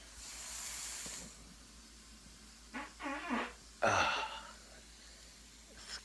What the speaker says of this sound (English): That's a fart joke.